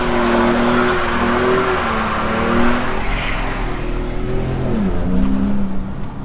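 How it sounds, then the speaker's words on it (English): A Ford F-150 Raptor revs hard during burnouts, its engine droning loud and continuous with rising and falling pitch sweeps and a rough, tire-scrubbing roar underneath, close and unbroken throughout. "So I did do a few burnouts and stuff."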